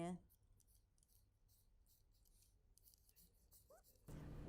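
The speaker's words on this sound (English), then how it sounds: "I can cut this detail now." Scissors cut through a paper sewing pattern piece, giving a faint, steady run of small snips close by that ends in a louder rustle of handling.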